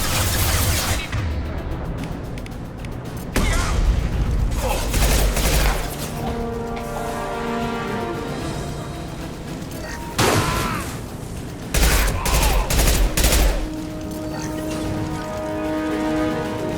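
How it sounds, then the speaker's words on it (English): Heavy gunfire from Blue Suns mercenaries and Vorcha in the Mass Effect game, with several loud sustained bursts of automatic fire, sharp shots and booms separated by brief lulls, all close and dense. "Blue Suns and Vorcha shooting anything that moves."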